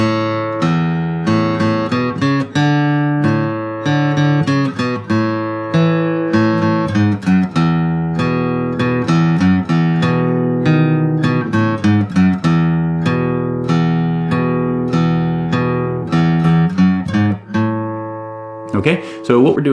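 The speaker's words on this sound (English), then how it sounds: "Variation 1 is going to be focused only on the bass lines" Single-note bass line intro riff of a song on guitar, one note at a time with no chord strumming, plucked steadily and loud for the whole stretch, ending with a brief strum.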